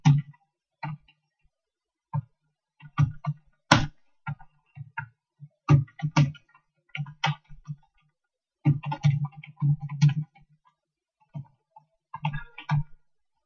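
Computer keyboard keys and mouse clicks tapped while typing text in Microsoft Word, irregular close clicks in short bursts separated by brief pauses.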